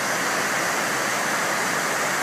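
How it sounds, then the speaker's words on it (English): Water pours steadily down the One World Trade Center memorial fountain, a dense, continuous rushing roar like a waterfall with no break, close and alone. "right here at this fountain, and it's really unreal because it pours fast and then it slips into this centerpiece"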